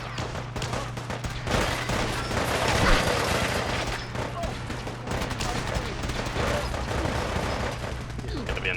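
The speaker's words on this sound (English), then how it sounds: "just hearing all the gunfire out there that I've got to get through" Dense, continuous gunfire in Fallout 4 crackles and rattles in a loud, chaotic barrage with booms mixed in, like a battle raging nearby.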